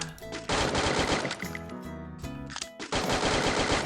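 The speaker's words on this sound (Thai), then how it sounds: "เฮ้ยยิงเร็วมากเลยเนี่ย เฮ้ยยิงโคตรเร็วดิ" Rapid gunfire in the video game Free Fire, dense bursts of fast automatic shots nearly filling the stretch, with brief gaps between volleys, played at moderate level.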